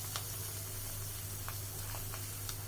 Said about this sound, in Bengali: মাছটা হালকা ফ্রাই করে নিব